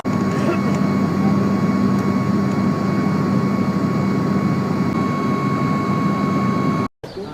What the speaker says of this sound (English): now we're about to get on the airplane to head up to Skardu